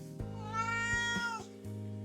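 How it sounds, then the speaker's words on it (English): A single drawn-out meow from a restless house cat, close and clear, rising and falling over about a second against a faint steady hum. "My cat got caught on wires because she's being a maniac right now."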